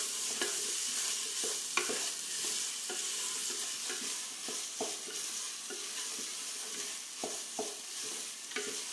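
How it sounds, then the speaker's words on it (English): Black sesame paste bubbles and sizzles in a pan while a utensil stirs it steadily, with soft scraping taps scattered through a constant, fairly quiet frying hiss. "You stir it for about a minute."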